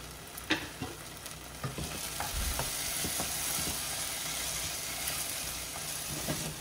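Capsicum sautéing in tomato paste for pav bhaji gives a steady close sizzle, with scattered scraping taps of a spoon stirring through the pan and no talking.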